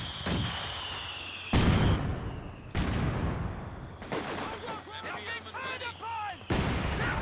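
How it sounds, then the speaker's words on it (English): A mine detonating in the Company of Heroes 2 battlefield, heard as loud sharp blasts and crackling gunfire in a dense combat mix, with warbling high effects toward the end. "I think he just detonated a mine there from the allies."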